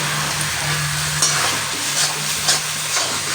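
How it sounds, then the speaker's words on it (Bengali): Spinach being stirred in a pan while it cooks, a steady soft sizzle with scraping stir strokes, close and alone without talk. "একটু নেড়ে করে নিয়ে পালং শাক তো একদম সিদ্ধ হয়েই গেছে"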